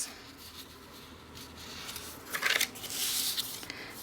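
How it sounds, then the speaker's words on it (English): Paper being creased and folded along score lines while making a hot cocoa pocket, giving soft rustling and crinkling that builds into louder crisp scraping bursts toward the end, close and without any talk. "I'm going to fold on all my score lines"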